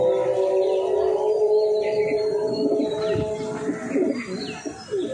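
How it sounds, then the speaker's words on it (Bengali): Pigeons, including dum and panja breeds, cooing loudly and close in a loft, overlapping rolling coos with some wing flutters and chirps, no talking. "খুব ভালো পায়রা"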